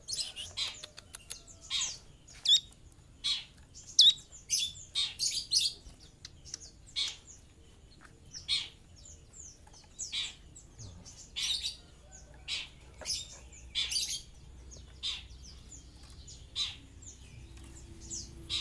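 Caged songbirds chirp and tweet in quick, bright bursts, several birds calling on and off nearby with short pauses between phrases.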